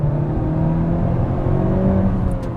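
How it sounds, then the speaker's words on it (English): A 2020 Honda Civic Type R in comfort mode downshifts and accelerates at full throttle, its loud, steady engine drone heard from inside the cabin for a few seconds with no talking. "now I'm going to go into comfort mode and then go downshift and floor."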